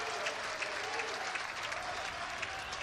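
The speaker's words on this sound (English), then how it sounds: "Crowd was letting Campos know they should call it a strike" Steady applause from a baseball crowd clapping at a pitch during an Ole Miss vs Nebraska game, a dense even wash of many hands kept up for the whole stretch with no voices standing out.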